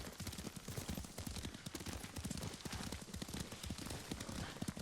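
Rapid hoofbeats of a horse in the video game Ghost of Tsushima pound steadily in a continuous galloping rhythm, loud and close, with faint rustling and clatter underneath.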